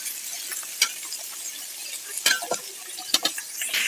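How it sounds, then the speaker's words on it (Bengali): Flat beans are stirred and fried in a pan with onion and garlic, with a low, soft sizzle and several sharp spoon scrapes and knocks against the pan at irregular intervals. "এখন আমি এতে সবজিগুলো ঢেলে দিচ্ছি। আমি সবজিটা আগে থেকে ধুয়ে রেখেছিলাম। একটু ভালো করে নেড়েচেড়ে একটু ভেজে নেব।"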